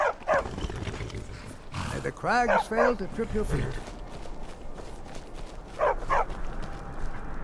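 A trained war dog in the fantasy game Skyrim barks and yips in several short bursts at close range, mixed with a man's speech and other game voices.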